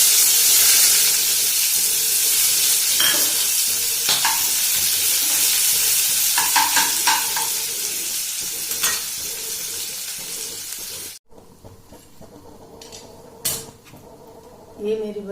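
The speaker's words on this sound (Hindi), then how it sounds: "अभी मैं इतने दाल में तड़का लगा देती हूँ।" Tadka for urad dal sizzling and frying in a pan, a loud steady hiss with stirring clinks and utensil knocks, which cuts off sharply to quieter pan sounds near the end.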